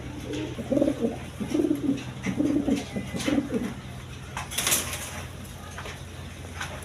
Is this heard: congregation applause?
no